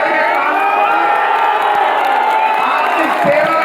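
Loud, dense crowd of cheering and applauding supporters at a political rally in Kolkata, continuous roar with whoops and shouts throughout.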